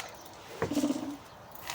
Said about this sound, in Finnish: Linnut luulee, että täällä on ruokintapaikka tässäkin terassa.